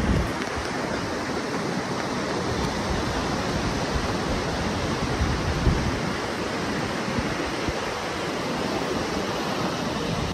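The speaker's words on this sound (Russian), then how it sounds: "И океан. Индийский океан." Indian Ocean surf on Kovalam beach in India, a constant dense roar of breaking waves, steady and fairly loud throughout with no voices.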